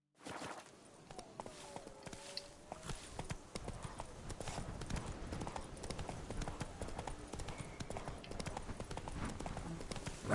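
Horse hooves clip-clopping at a walk in The Witcher 3: Blood and Wine, steady rhythmic hoof falls over a faint background bed.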